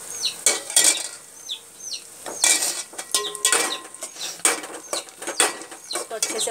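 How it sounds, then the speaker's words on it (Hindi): Onions and slit green chilies frying over high flame in a pan for bottle gourd sabzi, with a soft sizzle under repeated scraping and clinking of a metal spoon against the pan as it is stirred. "इसको अच्छे से ब्राउन होने तक के हमें इसे भूनना है प्याज को।"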